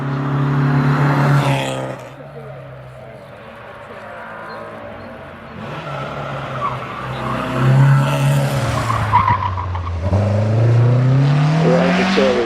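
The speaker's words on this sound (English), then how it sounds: "Daniel Carroll in the MGB Roadster goes up" An MGB Roadster races up the Prescott hill climb, its engine loud and close as it revs hard, shifts and climbs again, the note rising and falling through the run.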